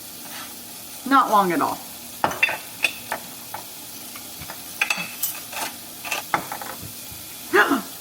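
Vegetables sauteing in a hot pan for egg cups, a quiet sizzle under scattered scrapes and taps of a utensil stirring, with someone speaking briefly and a dog barking in the background.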